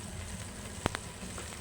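Garlic sizzles steadily while being sautéed for a chicken feet macaroni soup, a soft continuous frying hiss with a couple of brief clicks near the middle.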